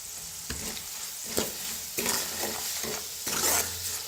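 Red chili powder masala roasts in a pan for a Kolhapuri bhadang snack, sizzling steadily with repeated scraping stirs of the spoon close by.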